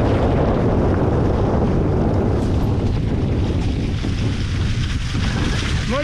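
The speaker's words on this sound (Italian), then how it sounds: "Muita vento." Strong wind buffets the microphone on a mountain trail near Castagneto, a loud, continuous rumbling gust that fills the whole stretch with no talking.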